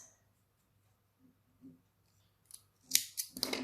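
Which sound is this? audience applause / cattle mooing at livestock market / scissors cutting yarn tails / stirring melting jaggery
scissors cutting yarn tails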